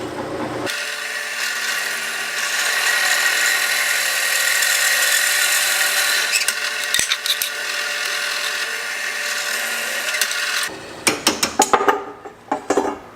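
A loud, sustained drill whine grinds through metal backed by wood for about ten seconds while building a BMW roll cage, followed by clattering knocks and rattles as it stops.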